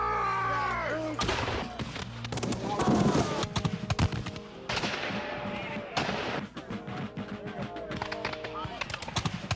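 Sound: battle gunfire sound effect in a Revolutionary War film

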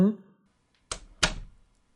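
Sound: door closing behind someone

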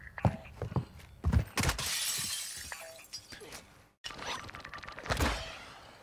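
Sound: glass breaking in a video game

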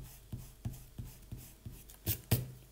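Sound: rubber eraser rubbing on paper

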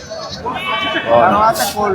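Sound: sheep bleating at a livestock market

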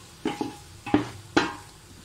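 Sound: mixing spices in chicken pulao

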